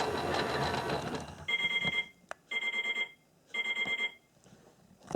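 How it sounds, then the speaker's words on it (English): A small Miele Novotronic toy washing machine whirs and chugs in rhythmic bursts on its spin, with short pauses between them, close by, after a stretch of broader noise. "If you can hear that in the background, it's the chugging sound."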